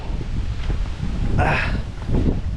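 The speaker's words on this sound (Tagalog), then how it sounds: "Ayan sobrang hangin." Strong mountain gusts buffet the microphone in low, rumbling surges, with rustling in the background and no talking.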